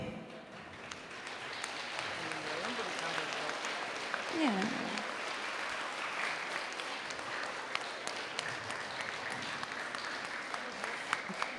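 Steady applause from a crowd at a rhythmic gymnastics championship awards ceremony fills the whole stretch, a dense wash of clapping with a brief voice or tone rising briefly near the middle.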